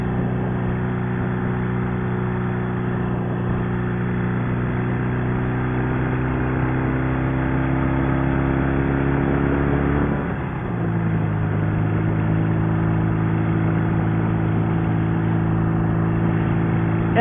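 A 650cc sidecar motorcycle engine in Martini Racing livery runs steadily and loudly throughout, its low harmonic drone holding a constant pitch before briefly dipping around the middle and settling back at a slightly lower, even pace.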